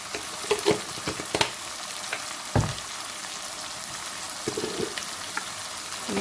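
Aloo gobhi, potatoes and cauliflower frying with dry spices in a pan, a steady close sizzle with scattered stirring scrapes and clinks.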